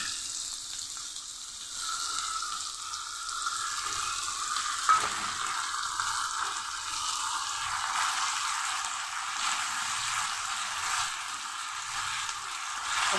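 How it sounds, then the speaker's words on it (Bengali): Coconut paste and nut paste fry steadily in a pan for a Bengali raw-banana dhoka, giving a close, continuous sizzle with faint stirring and one small clink partway through, and no talking. "এটা একটু ভেজে নেব"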